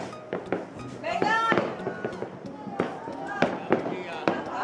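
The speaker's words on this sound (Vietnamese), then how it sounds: "Pháo hoa kìa." Fireworks burst during Tết celebrations in a rapid series of crackling bangs and pops, some loud and close, some farther off, while people talk and exclaim nearby.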